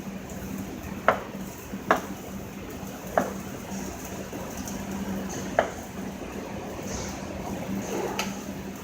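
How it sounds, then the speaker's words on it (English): A knife taps sharply on a cutting board while mincing a truffle, five or six distinct, spaced clicks over a quiet kitchen hum, fairly faint and unhurried. "So I'll mince up my truffle."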